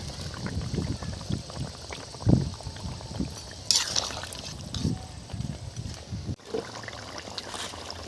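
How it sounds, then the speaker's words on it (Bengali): A thin fish curry broth with ridge gourd and fish simmers and bubbles in a pot, giving a steady low liquid burble with a few louder splashes and clinks as pieces go in. "ঝোল ফুটে গেছে, এখানে ঝিঙেগুলো দিয়ে দিলাম ঝোলে, আর তার সাথে দিয়ে দিলাম মাছ।"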